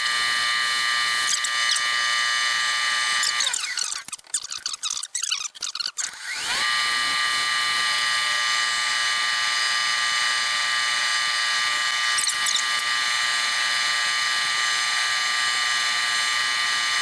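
A wood lathe runs with a steady, loud motor whine and high buzzing hum that continues almost unbroken, with a brief rough, scraping interruption near the start before the even drone resumes.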